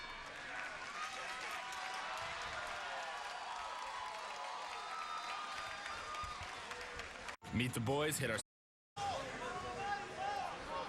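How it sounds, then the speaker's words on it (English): A boxing crowd in Salinas cheers and roars for Mendez between rounds, a loud continuous wash of voices and applause, briefly cut by a different segment with chanting and a short silence before the crowd noise resumes. "You can definitely hear the crowd here for Mendez"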